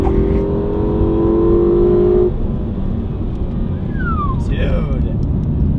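Car engine revving hard, a loud steady drone that drops abruptly partway through, like a quick downshift, then settles under a lower rumble.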